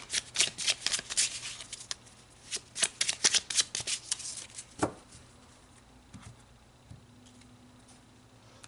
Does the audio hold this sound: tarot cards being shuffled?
yes